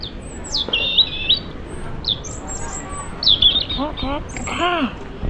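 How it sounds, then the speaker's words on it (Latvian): Birds chirp and tweet in short, high bursts, some rapid and repeated, over a soft background hum. "Reāli ielikšu putnu skaņas."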